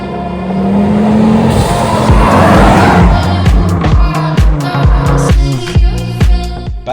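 A Mk2 Ford Focus RS five-cylinder hot hatch is driven hard, its engine loud and close and rising in pitch through the revs. Sharp gearshift and exhaust crackles follow, with tire noise over a steady roar and no talking.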